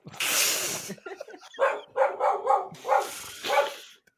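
A dog barks repeatedly nearby in a house at night, a burst of rapid yips and barks in an uneven rhythm with short pauses between them.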